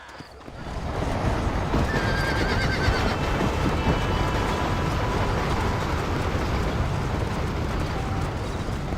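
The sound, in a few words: horses neighing in a video game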